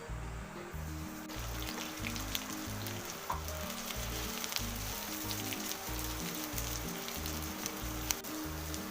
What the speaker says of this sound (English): I am going to add about 2 cups of onions sliced.